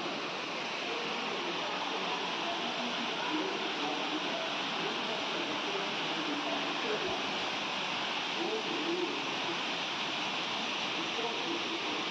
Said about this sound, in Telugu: మీకు వినిపిస్తుందా సౌండ్? కొండ మీద పారుతున్న వాటర్